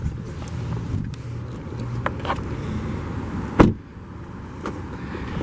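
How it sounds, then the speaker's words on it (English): An automatic driver's side power window rises in a 2019 Volvo XC60 T5 Momentum, a low motor hum under the car's ambient noise, ending in a sharp thump as the glass seats. "Bring the automatic driver's side window back up"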